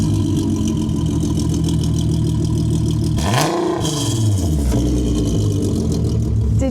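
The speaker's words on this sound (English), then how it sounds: "This is a 3-liter straight-piped 6-cylinder engine with over 500 horsepower." Loud, deep rumbling of a 3-liter straight-piped six-cylinder Golf GTI engine with over 500 horsepower idling up close, with a brief rev and a swooping pass in the middle.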